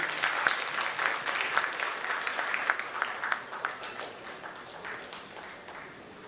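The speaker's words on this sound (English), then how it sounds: "Can we also have a louder round of applause?" Audience applause at a leadership summit panel session, many hands clapping in a dense, steady patter at moderate volume that gradually thins out over several seconds.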